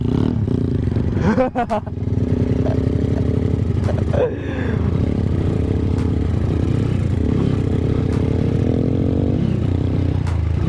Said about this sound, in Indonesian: Motor ngene iki digo spek trabasan, Pak.